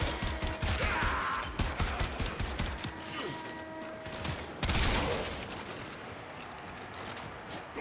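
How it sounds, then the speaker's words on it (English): The Tigris shotgun fires in the Warframe video game, loud, dense blasts amid a busy, continuous wash of combat noise with no clear gaps. "I kinda like the shotgun, the Tigris."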